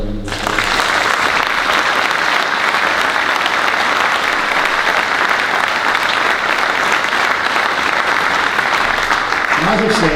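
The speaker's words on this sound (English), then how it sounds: "I think they deserve a round of applause." Sustained loud applause from a crowd at a Row On Row gathering on the Shankill Road honouring the cadets, dense even clapping lasting about ten seconds, with a voice briefly audible just as it ends.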